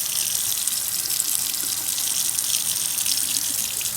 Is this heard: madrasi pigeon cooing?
no